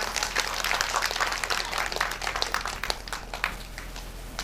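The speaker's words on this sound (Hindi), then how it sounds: "एक बार उनके लिए भी जोरदार ताली।" Audience at a Shrimad Bhagwat Katha gathering applauding, a dense patter of many hands clapping fairly loudly and then gradually thinning out.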